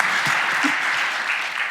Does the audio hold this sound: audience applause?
yes